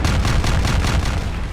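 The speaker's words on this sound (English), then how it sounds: "Off the top, I got gunshots." Gunshot sound effects fired in rapid succession, a dense burst of loud, close, booming pops with no pause between them.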